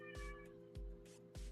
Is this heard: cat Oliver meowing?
yes